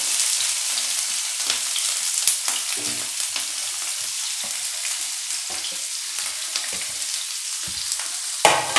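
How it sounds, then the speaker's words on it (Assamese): Paneer and onion fry in hot oil, giving a steady, bright sizzle with faint stirring scrapes and a few sharper crackles near the end, heard alone without any voices. "আমি ইয়াত তেলটো আমাৰ গৰম হৈ গৈছে আমি ইয়াত এড কৰি দিছোঁ এইটো পনীৰটো দি দিছোঁ পিঁয়াজটো দি দিছোঁ"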